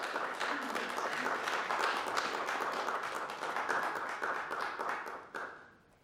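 Applause from a city council meeting audience, a dense patter of many hands clapping that holds steady and then thins and fades away near the end.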